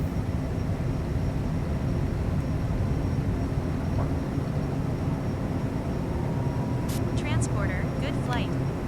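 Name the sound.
Cessna Citation CJ4 jet taking off in a flight simulator video game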